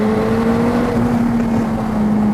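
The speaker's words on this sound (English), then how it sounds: "the McLaren's engines, they're not the most musical engines. They generate a fair bit of noise" McLaren sports car engine under acceleration, a loud steady mechanical drone with a rising tone, close inside the cabin, continuous for the whole moment without speech.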